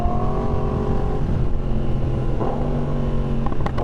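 A motorcycle engine drones and climbs in pitch as it accelerates during a riding session. The sound is close, continuous and loud, with the tone shifting through the gears and no talking.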